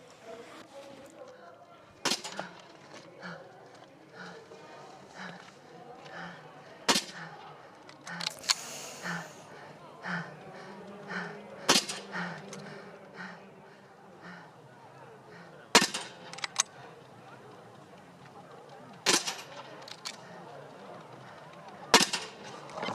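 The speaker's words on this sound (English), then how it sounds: "So Bui, the middle distance gold medalist, will shoot again" Sharp rifle shots crack out one at a time at a para biathlon shooting range during the sitting and standing finals, spaced a few seconds apart over steady crowd noise and commentary.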